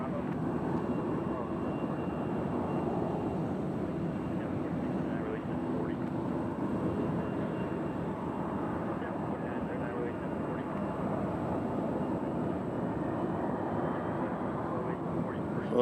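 A JetBlue jet airliner departing for JFK from Nashville International Airport, a steady broad engine roar sustained throughout, moderately loud and somewhat distant.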